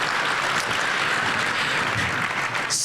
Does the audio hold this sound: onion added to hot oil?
no